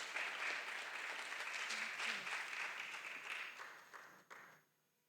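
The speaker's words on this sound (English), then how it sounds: "A round of applause" Audience applause for a speaker at a workshop on gender-based violence and sexual harassment, a steady dense crowd clapping for about four seconds that thins out and fades to near silence at the end.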